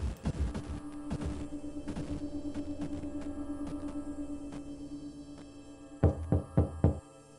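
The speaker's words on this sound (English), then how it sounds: "let's knock on the door now." A Halloween trick-or-treat door gets knocked: a cluster of knocks at the start, a steady low hum in the middle, then four sharp, close knocks in a quick run near the end.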